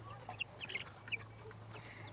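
A brood of 26 chicks crowded into a small cage, giving a few soft, scattered peeps and clucks over a steady low hum, faint and close.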